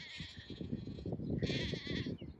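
Sheep bleat repeatedly on a farm, two long wavering calls that stand out clearly over a busy, close background of shuffling and movement, with no voices.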